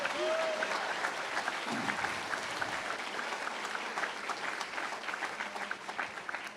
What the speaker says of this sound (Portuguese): Se vai aplaudir, aproveite e faça bem feito.